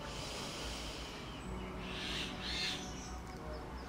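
A deep, slow inhalation during a pranayama breathing exercise, a soft airy breath that swells toward the end, faint and close over a steady background hiss.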